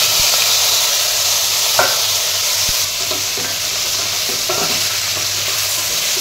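Roasted goat trotters are stir-fried with ginger-garlic paste and turmeric in a loud, close sizzle, with a spoon scraping and tapping the pan now and then under the constant hiss.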